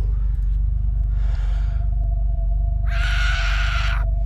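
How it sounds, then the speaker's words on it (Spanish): Screams from the neighbor character in the horror stealth game Hello Neighbor, two bursts of bright harsh noise, a softer one early and a louder, longer one near the end, over a steady low game hum and a thin tone. "ya estamos con los gritos"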